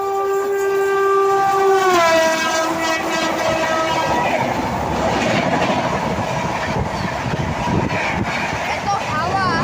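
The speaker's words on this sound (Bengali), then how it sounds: "ট্রেন 1 নম্বর প্ল্যাটফর্ম দিকে আসতেছে।" A train pulling into platform 1 at a railway station, opening with a long loud horn blast that drops in pitch, then the heavy rumble and clatter of passing cars close by, with voices faintly audible.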